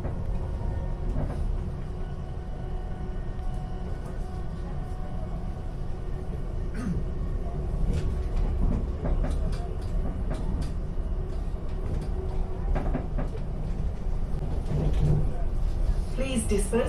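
An Elizabeth line train runs between stations toward Paddington, with a steady rolling rumble and track noise throughout and onboard announcements over it.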